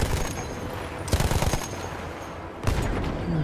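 Battlefield 1 gunfire: loud bursts of automatic fire come in clusters with short gaps between them, sitting on a constant backdrop of battle din. No one speaks.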